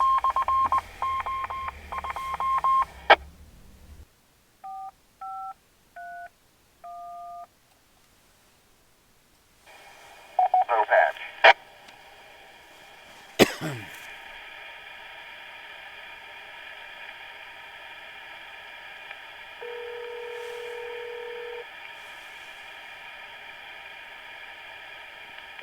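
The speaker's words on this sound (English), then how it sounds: "I'm going to make a phone call on my radio where there is no cell phone service" A run of crisp telephone touch-tone dialing beeps sounds over a ham radio phone call, the tones spaced in quick steps with bursts of static, then a steady radio hiss lingers.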